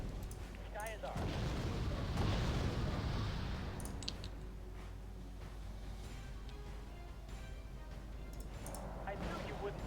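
Artillery fire in the Wargame Red Dragon strategy game, a heavy booming rumble swelling then fading into a lingering wash, with scattered clicks and a voice talking over it.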